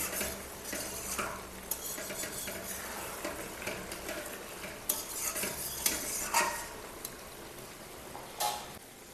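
Bata fish curry masala is stir-fried and cooked down in a pan, heard as quiet, intermittent scraping and stirring strokes over a faint low sizzle, with a few light clinks of the utensil against the pan.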